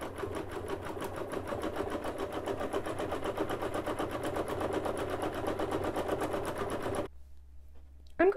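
A sewing machine stitches slowly and steadily over a bulky denim seam on a pants leg, its rapid even needle rhythm running close and loud for about seven seconds before stopping abruptly.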